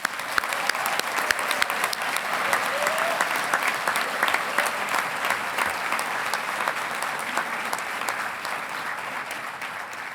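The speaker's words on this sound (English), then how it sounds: "Please join me in a round of applause in congratulating these students on this happy occasion" Steady audience applause fills a university engineering commencement ceremony at Colorado State University, a dense, even wash of many hands clapping that holds for several seconds before slowly tapering off.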